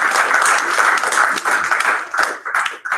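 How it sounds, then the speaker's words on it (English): An audience claps for a volunteer speaker after her talk, steady close clapping that thins and breaks up toward the end. "Can you hear us clap for you?"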